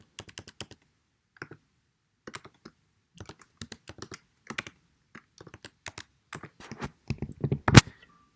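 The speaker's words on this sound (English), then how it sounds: "We just have to type the integral exactly as it had been written on our page." Typing on a computer keyboard, entering a math integral into an online calculator: bursts of quick, crisp key clicks separated by pauses, close and fairly quiet, ending in a louder flurry of presses with no talking.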